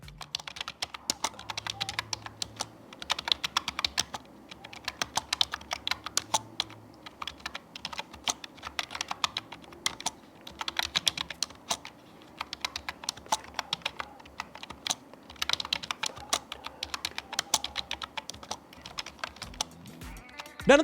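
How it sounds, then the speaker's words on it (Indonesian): Rapid, steady keystrokes on an Altec Lansing ALBK6268 dual-mode keyboard, heard up close and fairly loud as continuous clicky typing with brief pauses and no voices. "typing soundnya ini memang lumayan kedengeran"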